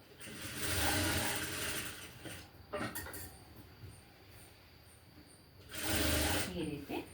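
A sewing machine stitches lining onto a blouse piece in two short close bursts of rapid mechanical clatter, separated by a quieter stretch with light handling sounds.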